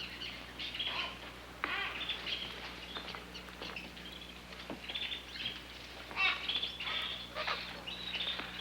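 Birds in a bird store chirp and tweet in scattered short bursts throughout, fairly quiet and irregular, over a faint steady background hum.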